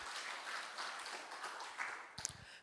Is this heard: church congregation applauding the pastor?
yes